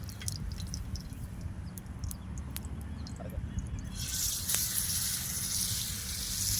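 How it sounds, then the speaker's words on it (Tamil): Steady hissing sizzle of fish frying in oil outdoors by a lake, with faint clinks early on, swelling into a louder, brighter crackle midway that continues to the end. "இந்த மீன் தான் இப்போ வந்து பொரிக்க போகிறோம்."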